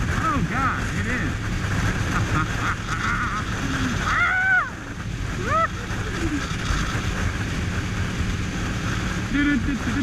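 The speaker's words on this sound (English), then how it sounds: "It's just really windy." Strong wind buffeting the microphone at the beach on South Padre Island, a constant heavy rumble with surf in the background, while a person talks over it throughout.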